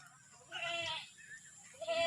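Goats bleating on a farm in Oriental Mindoro, two or three wavering bleats close by with short pauses between, over a quiet background.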